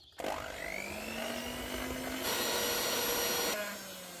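Electric mixer whisking sweet Easter bread dough with lemon and orange zest, a steady close whirring motor hum with a rising pitch at the start and a brief louder stretch midway.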